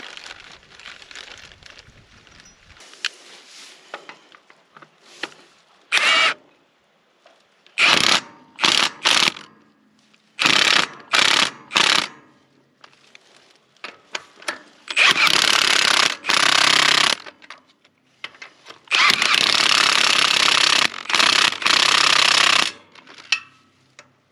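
A gearbox being bolted back onto a farm irrigation pivot with a power tool: several short loud bursts of impact-wrench rattling, separated by quiet pauses and faint clinks of metal, with longer buzzing runs near the end.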